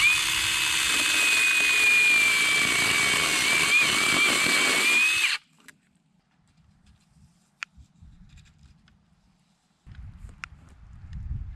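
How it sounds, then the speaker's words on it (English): A loud chainsaw roars steadily for about five seconds while cutting wood in the wilderness, then cuts off, leaving quiet rustling, a few light knocks, and some low handling noise near the end. "So I brought the chainsaw."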